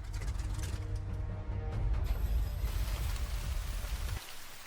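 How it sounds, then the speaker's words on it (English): Steady rain falls across the Mines map in World of Tanks console, heard as a continuous broadband hiss over a low engine rumble from a Skoda T25 tank, ending with a drop in low-end near the close. "It's raining, it's miserable"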